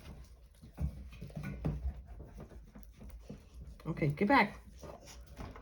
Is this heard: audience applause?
no